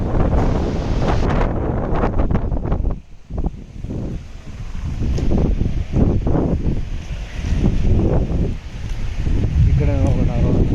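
A dam on a river in spate, with a bridge nearby and water surrounding it after rain. A strong, continuous roar of rushing water fills the scene, buffeted by heavy wind on the microphone, while a person talks over it.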